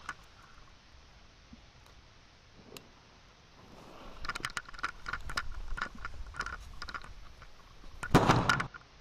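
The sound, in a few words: fireworks exploding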